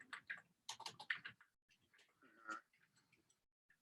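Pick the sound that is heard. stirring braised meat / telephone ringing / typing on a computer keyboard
typing on a computer keyboard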